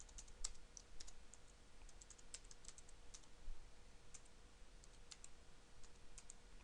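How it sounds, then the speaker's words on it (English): Fast, irregular clicking of keys on a computer keyboard while a Linux command line is used, faint and close in a quiet room with no voice. "I'm having a difficult time typing and speaking at the same time."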